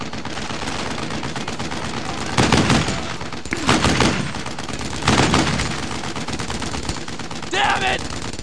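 Repeated bursts of automatic gunfire and rifle shots in the World War II shooter video game Brothers in Arms: Earned in Blood, loud and sustained, with several heavier volleys rising over continuous battle noise.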